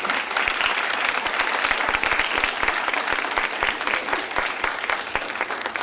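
Lecture audience applauding an artist at a museum lecture series, steady dense clapping from a full room throughout, loud and sustained without a break.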